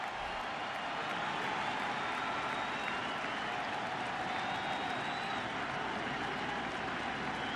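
A baseball stadium crowd at a 2016 World Series game between the Cleveland Indians and Chicago Cubs cheers and applauds steadily for pitcher Tomlin, a continuous wash of distant clapping and roaring.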